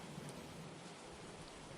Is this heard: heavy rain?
yes